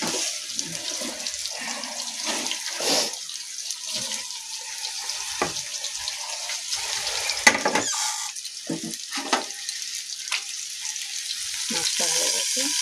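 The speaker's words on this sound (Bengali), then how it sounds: "বাটা মাছটা ভাজছি" Bata fish frying in oil in a pan gives a steady, close crackling sizzle for the whole stretch, with occasional scraping and clinking, almost no voices.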